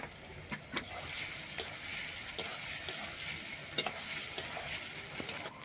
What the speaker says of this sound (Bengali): ওই জন্য একটা একটা একটা করে দিচ্ছি, আর একটু ভালোভাবে কষিয়ে নিচ্ছি